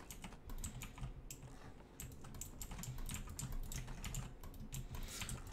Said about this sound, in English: Sorry about my keyboard, I do apologize.